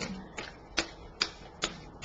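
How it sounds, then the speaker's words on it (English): A deck of tarot-style cards shuffled three times: crisp riffling snaps and taps in short, evenly spaced bursts, close and quiet, with no talking. "Shuffling 3 times."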